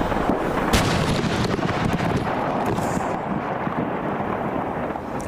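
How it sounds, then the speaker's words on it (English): A massive blast at a fireworks storage facility roars as a continuous loud, dense rumble with crackling bursts throughout, sustained and overwhelming with no pause. "that was the moment of the most massive blast"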